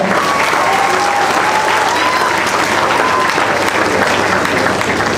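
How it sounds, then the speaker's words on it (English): Loud, sustained applause from an audience at a university workshop, greeting the Vice Chancellor, dense and steady throughout with a faint tone drifting over the clapping. "That applause is not enough"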